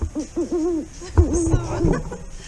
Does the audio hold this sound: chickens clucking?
no